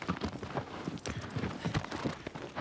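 Horse hooves gallop in Shadow of the Colossus, a steady rapid clip-clop rhythm throughout, fairly loud and close, with no talk over it.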